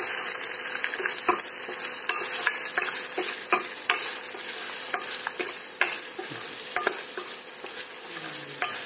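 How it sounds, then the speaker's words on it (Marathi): Cracked wheat dalia with green chillies, onion and curry leaves is stirred in a hot pan: continuous sizzling with repeated scraping ladle strokes, close and steady. "आता ह्याला मी हलवून घेते चांगलं"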